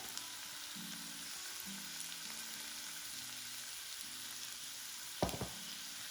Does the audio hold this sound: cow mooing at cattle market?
no